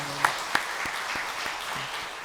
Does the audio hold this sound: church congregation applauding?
yes